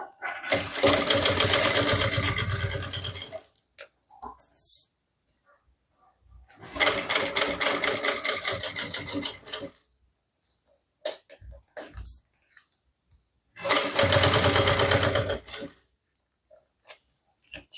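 A sewing machine stitches a fabric bag in three loud, steady runs of a few seconds each, separated by quiet gaps with small clicks and handling noises as the fabric is repositioned.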